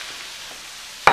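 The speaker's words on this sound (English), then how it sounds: "So our skillet's heated up. We're going to place our pork chops in here." Pork chops go into a heated skillet, and after a quiet moment a sudden loud sizzle bursts up near the end and keeps hissing steadily.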